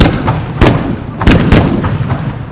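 Rifle fire from riflemen in a military display: three loud, sharp cracks a little over half a second apart, each echoing out over a noisy open-air background.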